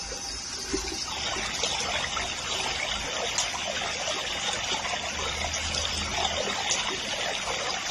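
Running water splashes and trickles steadily at close range while an oatmeal and honey face mask is rinsed off by hand, a continuous tap-like flow with faint dribbles and no talking.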